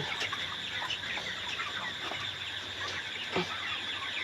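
A flock of 27-day-old broiler chickens in a poultry shed clucks and chatters continuously at close range over a steady background hum.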